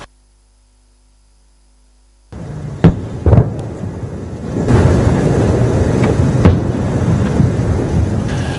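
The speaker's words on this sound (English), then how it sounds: "Northern Gaza was shaken by huge explosions" Silence, then sudden deep booms and sharp blasts from huge explosions in northern Gaza erupt into a sustained rumbling roar, with a couple of louder explosive cracks standing out.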